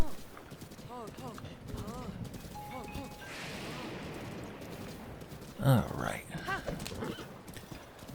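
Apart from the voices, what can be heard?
horse hooves clip-clop and whinny in Breath of the Wild video game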